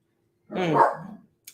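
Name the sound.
dog barking in the room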